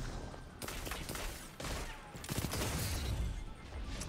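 Loud, repeated weapon fire from an exotic gun in a shooter video game. It comes as clustered bursts with short gaps and swells into a dense roar near the end, with no voices.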